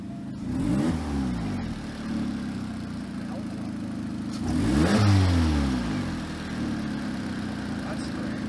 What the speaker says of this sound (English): You got the exhaust leak, but that's a very smooth acceleration there.